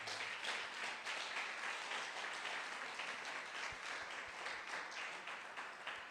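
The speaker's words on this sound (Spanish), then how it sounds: "Démosle un fuerte aplauso al Señor." A church congregation gives a sustained round of applause during a worship service, a soft, diffuse and steady clapping texture heard from a distance without talk.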